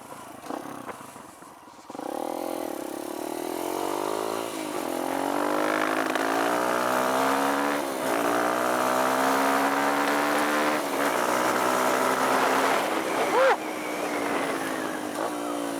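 A Kawasaki KLX140 dirt bike fitted with a KX65 carburetor revs at around half throttle, its engine note rising and wavering unevenly as it stumbles, loud and close for most of the stretch.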